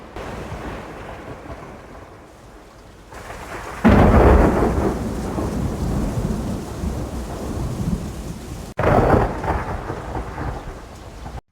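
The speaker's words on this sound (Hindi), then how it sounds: "एक रात गांव में बहुत तेज बारिश और तूफान आया।" A heavy night thunderstorm over a village: steady loud rain pours throughout, broken by deep rolling thunder and a sharp crack, with gusting wind and no voices.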